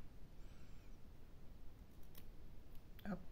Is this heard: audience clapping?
no